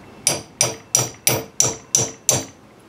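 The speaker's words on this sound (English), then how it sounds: "I'm going to hammer it just a little bit more." Seven sharp hammer strikes land at an even, steady pace, each ringing briefly before the next blow, close and loud.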